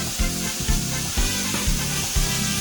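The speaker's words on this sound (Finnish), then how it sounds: "käännetään pekonia. Katsotaan, tulee ruskeita hyviä pekoneita." Bacon sizzles and spits steadily in a frying pan while being cooked for pasta carbonara, a close, continuous frying hiss with soft rhythmic swells and no voices.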